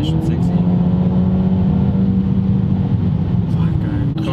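Mercedes-AMG A35 engine heard from outside the car, a loud steady drone with a sustained low hum throughout, revving slightly near the end.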